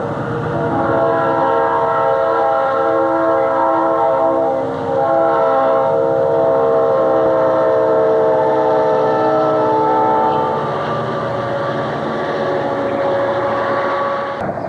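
Conrail freight train passing eastbound at Emmaus, a loud continuous rumble of wheels and engines with sustained horn-like tones running nearly throughout, close and steady with a brief dip midway.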